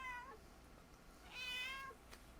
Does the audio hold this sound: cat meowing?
yes